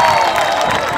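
A congregation at a church worship gathering bursts into loud applause and cheering, a dense close wash of clapping and voices throughout the brief moment.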